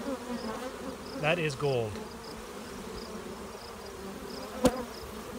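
Honey bees buzz steadily around a hive of managed colonies, a constant insect drone that fills the whole stretch, with a brief burst of nearby voice partway through.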